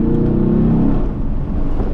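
A car pulls away in first gear with a loud, steady engine drone close by and a slight rise in pitch, no talk.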